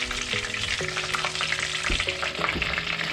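Shrimp tempura deep-fries in oil with a loud, constant bubbling sizzle, close by, while a faint tonal hum rises and falls underneath; nobody speaks.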